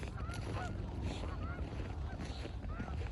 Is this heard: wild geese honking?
yes